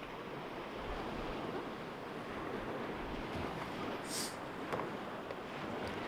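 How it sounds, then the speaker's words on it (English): Waves on a lake driven by a steady breeze at an outdoor tournament, a continuous broad wash of surf and rushing wind noise at even level throughout, with no speech. "we have a pretty steady breeze coming off the lake, as you can tell from the waves"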